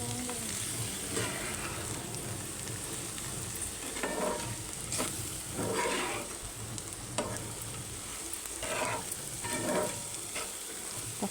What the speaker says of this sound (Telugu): ఒక 5 మినిట్స్ అలాగే కలుపుకోవాలి